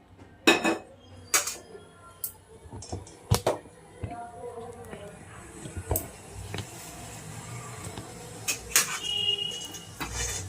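Tea masala spices are dry-roasted in a kadhai over a medium flame, making sharp clinks and scrapes of a utensil against the pan. The knocks come in irregular bursts over a quiet background, with a faint voice at times.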